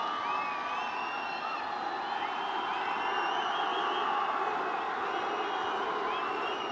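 A home crowd cheers at a Santosh Trophy national championship football match between Goa and Arunachal Pradesh: a steady, distant roar of voices with shrill whistles and whoops rising above it throughout.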